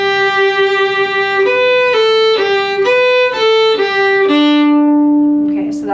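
Solo fiddle playing a parallel harmony line to The Woodcock, bowed notes stepping up and down before a long held final note, close and bright, played alone.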